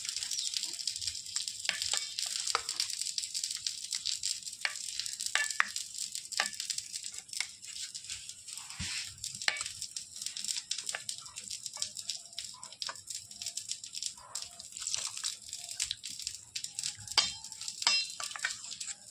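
Lemon juice is stirred into a lemon pickle mixture, a continuous wet, sizzling-like scraping of a spoon through the mix, steady and close without speech.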